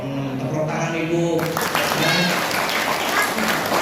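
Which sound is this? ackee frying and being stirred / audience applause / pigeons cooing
audience applause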